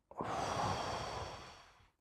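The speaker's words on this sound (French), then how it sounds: "Alors, une respiration." A single deep breath, a long close exhale that starts abruptly and slowly fades over about two seconds, heard on its own.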